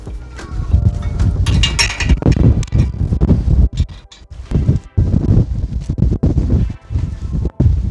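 Breezy wind gusting across a hiking trail in the Peak District, Derbyshire, buffeting the microphone in uneven bursts with rustling and a few footstep-like knocks, loud and close throughout.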